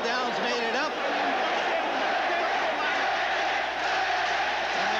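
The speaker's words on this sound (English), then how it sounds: "And the crowd alive here at the National Tennis Center" A big crowd roars and cheers at a boxing match between Jeff Fenech and Tyrone Downes at the National Tennis Center, just after a late knockdown in the fourth round. The noise is a sustained, loud swell, and a commentator speaks over it.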